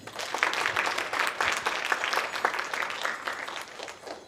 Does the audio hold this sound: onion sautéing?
no